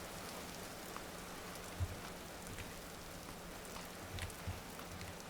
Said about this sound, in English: We're out of the rain.